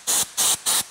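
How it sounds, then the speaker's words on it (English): Three short, even bursts of aerosol spray hiss close by, each lasting a fraction of a second with brief gaps between. "I'm going to spray the interior with some Cloudburst to make it smell"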